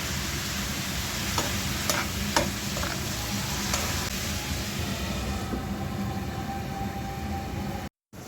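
Sliced bitter gourd fries with green chilies, onion, turmeric and salt in a hot pan, giving a steady, close sizzle with a few sharp stirring clinks and no talking.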